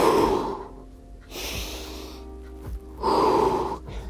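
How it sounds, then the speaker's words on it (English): Heavy breathing during an ab workout for men over 50, with two strong exhale bursts, one at the start and one near the end, and softer inhales between. The breaths are close and loud, with no talk. "You want to exhale and inhale."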